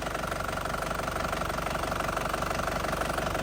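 A 2010 Isuzu Panther Grand Touring diesel engine idles close by with a steady, even, rapid knocking chatter, loud and unbroken throughout.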